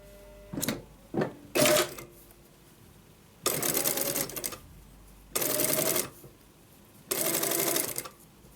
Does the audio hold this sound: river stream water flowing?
no